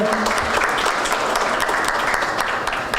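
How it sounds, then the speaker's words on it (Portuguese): Conference audience applauding a panelist taking her seat for a morning debate, a steady, fairly close wash of clapping that fills the whole stretch without pause. "Uma salva de palmas para a doutora Lúcia, por favor"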